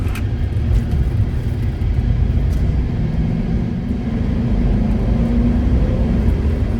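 Mercedes-Benz C126 560SEC engine at a dealer auction, a loud, steady, close low rumble that holds for several seconds with slight swells in the revs and no voices.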